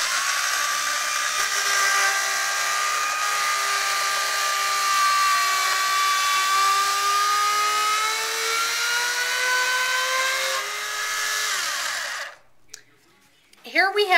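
A handheld tool distressing sheets of scrapbook paper, a steady high motorized whir with slowly shifting pitch held for several seconds, then cutting off into a short quiet stretch.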